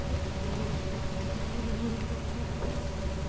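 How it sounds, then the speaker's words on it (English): Bees buzz in the video game Lethal Company as a steady, dense drone that stays loud and unbroken throughout, with a faint hint of voice underneath. "I think I'm just gonna go then, if the bees will allow me."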